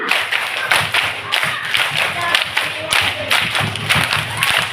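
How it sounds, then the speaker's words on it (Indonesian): Children and adults at a Maulid Nabi gathering clap a rhythmic patterned group clap, repeated in several rounds of sharp, close hand claps in quick sequences, with a few voices mixed in. "3 kali tepuk 5"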